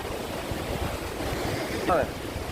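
Sea waves wash onto the shore in a constant, close roar mixed with wind buffeting the microphone, and a brief voice cuts in near the end.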